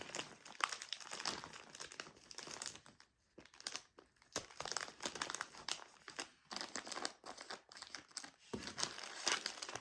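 Gift wrapping paper is folded and crumpled by hand, a steady run of close crinkling and crackling with brief pauses, fairly quiet.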